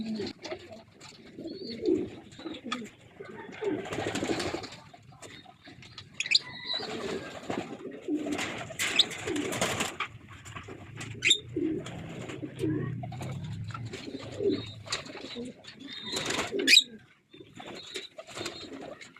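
Pigeons coo steadily at close range, with soft overlapping calls, occasional chirps and a brief flutter of wings.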